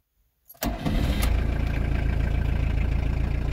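A van engine cranks briefly and catches, then settles into a steady, loud, rumbling idle with an even low throb, near and alone.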